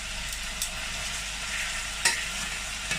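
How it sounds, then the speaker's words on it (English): Steady, close sizzling from a frying pan, a dense crackling hiss with a few soft clicks scattered through it. "Nice bit of sizzling food."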